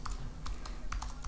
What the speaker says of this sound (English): if we hit the down arrow on our keyboard, we can input that first cell